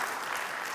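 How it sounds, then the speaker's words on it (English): A church congregation breaks into applause, a dense, even wash of many hands clapping that fills the whole brief moment with no other sound. "Now you can clap."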